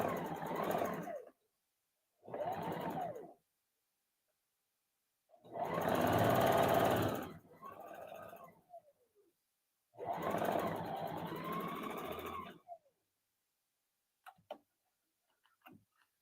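Sewing machine stitching along a fabric seam in short runs: two brief bursts, then longer steady whirring stretches separated by pauses, close and clear, with a few faint clicks at the end.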